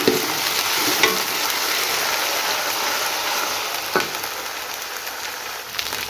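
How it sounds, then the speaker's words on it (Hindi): Ginger, green chilies and garlic frying in hot oil, a loud dense sizzle running steadily throughout, with a few soft knocks of a spoon against the pan. "अदरक और सब्ज़ मिर्ची अच्छी तरह फ्राई हो गया"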